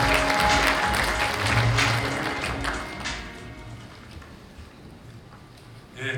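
Applause from a conference audience at an international drone sports and entertainment conference, loud and dense at first, then thinning and fading over several seconds, with a faint voice near the end.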